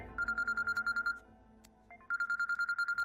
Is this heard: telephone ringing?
yes